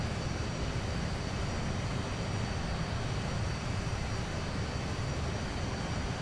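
Avro Vulcan jet engines drone steadily in a flight simulator as the bomber flies over RAF Fairford airfield, a continuous broadband roar with a deep low rumble, even and unbroken throughout.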